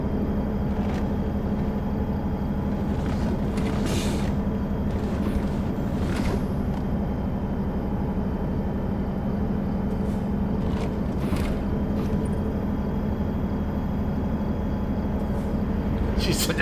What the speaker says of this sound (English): Man, this truck pick up speed going down that hill.